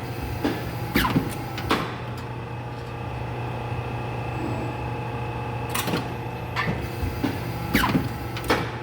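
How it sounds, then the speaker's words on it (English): A 2008 Perfecta 92 HTVC hydraulic programmable paper cutter with air table runs under a steady motor hum, several sharp clunks marking each blade cycle and back-gauge move, heard close with no talking. "You can see the back gauge is quick and quiet. Cutter operates smoothly."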